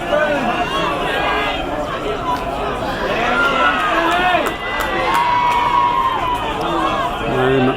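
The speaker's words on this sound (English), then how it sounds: "Crowd on that side are liking what they see from yellow." A crowd at a men's division 1 field hockey match between Flinders and Maroochydore cheers and shouts loudly and continuously, with a commentator talking over it.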